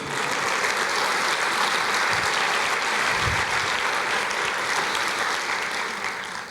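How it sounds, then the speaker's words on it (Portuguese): A church congregation applauds the Lord during a sermon, loud continuous clapping from a large crowd that stays dense throughout and fades a little at the end. "Aplauda o Senhor"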